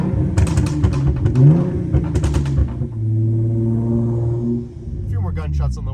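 A Hyundai Genesis Coupe 3.8 R-Spec revs hard with sharp crackling exhaust pops, then settles into a steady droning exhaust note that rises and falls, loud and close.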